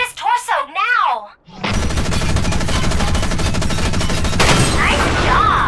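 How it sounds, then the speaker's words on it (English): Rapid mech gunfire from Front Mission Evolved rattles in a dense, sustained burst after a brief electronic warble, loud and continuous for several seconds with no talk over it. "Shoot his torso now!"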